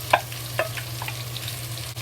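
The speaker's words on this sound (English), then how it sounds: "When the garlic, ginger, onion release good smell, we add the sausage into it." Sausage frying in hot oil with ginger, garlic and onion, a steady close sizzle with a few quick stirring scrapes on top, no voices.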